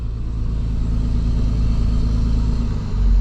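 A motorhome's engine, recently repaired for a boost leak, drones low and steady while driving, its deep hum rising slightly toward the end, with no voices.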